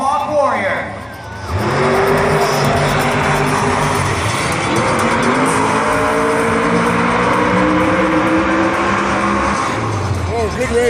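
Monster trucks racing at the Monster Jam World Finals in Las Vegas, loud engines roaring steadily across the arena after a brief dip, with a crowd and an announcer's voice over the top.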